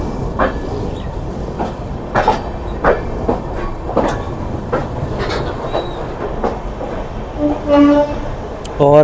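A train shunting the Chhattisgarh Express at Amritsar Junction: loud, close rail noise with repeated metallic clanks and wheel clatter, plus a brief horn-like tone near the end.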